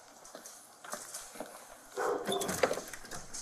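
Dogs, including a Rottweiler, sound off outdoors with short barks and whimpers, building louder in the latter half amid scuffling movement, with no talk over it.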